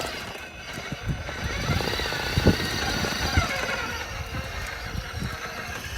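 An Axial SCX6 RC crawler fitted with Vitavon portal axles grinds along in first gear, a loud continuous whirring drivetrain whine with rattling knocks and bumps, close up.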